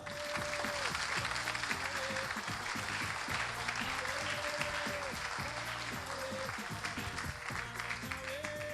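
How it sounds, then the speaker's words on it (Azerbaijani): A TV show audience claps loudly and continuously for a contestant while loud music plays in the background. "1 nömrəli iştirakçısı Kəbleyi Mahir Coratlı, alqışlar."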